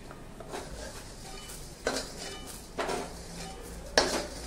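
Roasted coriander and cumin seeds scraped from a pan into a dish while making misal, with a few distinct metallic clinks and scrapes of a spoon against cookware over a quiet kitchen background.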